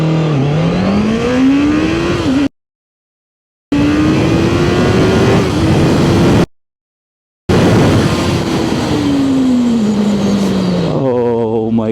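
QJMOTOR 800 SRK motorcycle accelerating hard from 0 to 150 km/h, a loud close engine climbing in pitch through repeated gear shifts, broken by two brief silent gaps.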